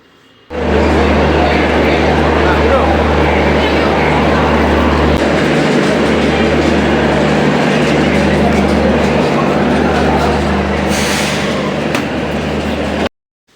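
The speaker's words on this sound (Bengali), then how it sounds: "এই হচ্ছে আমাদের ট্রেন" The Uttarbanga Express passenger train rumbles steadily and loudly nearby, with a constant low engine drone and rolling clatter throughout, after a brief quiet start.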